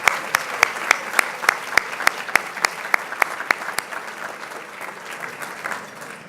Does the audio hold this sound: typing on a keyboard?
no